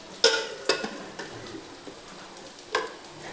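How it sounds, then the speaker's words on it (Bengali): Onion, ginger and garlic lightly frying in a pan, a soft steady sizzle broken by a few sharp clinks of a spoon stirring against the pan. "এখানে আমি পেঁয়াজ, আদা, রসুন এগুলো একটু হালকা করে ভেজে নিচ্ছি।"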